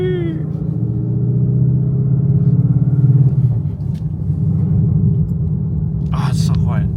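A Ford Mustang with a manual gearbox cruises at steady speed, its low engine and road rumble filling the cabin evenly throughout, with a brief harsher burst of noise near the end.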